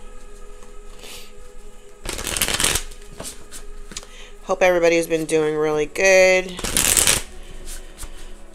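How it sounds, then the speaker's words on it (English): Tarot cards are shuffled in two brisk riffling bursts close to the microphone, separated by someone speaking in a light, friendly voice. "let's shuffle these cards"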